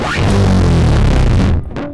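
A loud, dense, distorted bass guitar riff through fuzz and OC5 octave pedals, with a thick fuzzy low end and growling octave tones, cutting off abruptly near the end.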